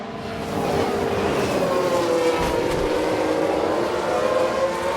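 Formula 1 cars in the F1 Manager 22 racing game, running a 1992-season race after a multi-car collision, give a steady, loud, whining engine drone that holds unbroken throughout.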